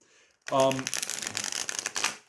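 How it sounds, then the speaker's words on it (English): A quick riffle shuffle of tarot cards: a fast flutter of flicking cards up close, followed by a few softer cracking and shuffling sounds, with a brief voice. "yeah, it shuffles wonderfully."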